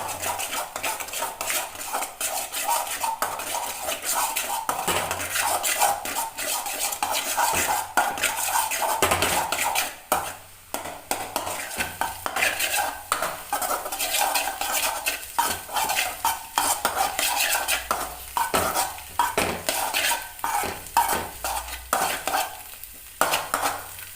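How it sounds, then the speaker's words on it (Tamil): Egg fried rice with pepper being stirred in a pan, a continuous busy scraping and clattering of a utensil against metal over a low sizzle, close and steady with a brief lull midway. "நல்லா மிக்ஸ் பண்ணிக்கோங்க."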